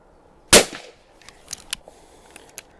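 A .410 side-by-side shotgun fires one sharp, loud report at a clay target, followed by a few faint clicks and small knocks.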